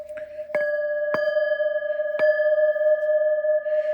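Singing bowls are tapped several times in quick succession, each strike blooming into a bright, steady ringing tone that lingers and wavers softly.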